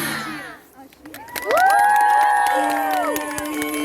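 A crowd cheers for children at a Ukrainian folk singing performance, with shouts and whoops rising over brief clapping, and a sustained sung or shouted tone carrying across the second half.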